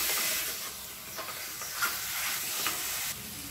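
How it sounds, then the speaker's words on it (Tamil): Chicken pieces are stirred through masala in a pan for a pressure-cooker chicken curry, giving a close, continuous sizzle with soft scraping and stirring rustles. "இப்போ இது வந்து நல்லா புரட்டிக்கலாம் அந்த மசாலாவோட."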